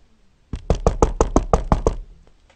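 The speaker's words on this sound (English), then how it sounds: "Finally, Mr. Gruber knocked on the box." Knuckles rap on a box during a story reading, about nine quick, evenly spaced knocks, loud and close, with no voice over them.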